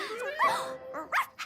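Cartoon puppy giving a few short yips and whimpering whines in quick succession, close and fairly clear, its high voice rising and falling, with no talking between the sounds.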